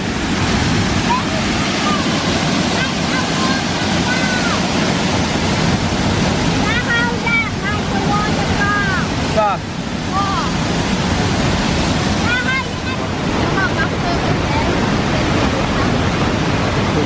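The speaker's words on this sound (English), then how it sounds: "There's a waterfall." A waterfall on a holiday trip in Wales sends up a steady, loud rush of falling water that fills the whole clip, with faint chirps and brief voices now and then above the roar.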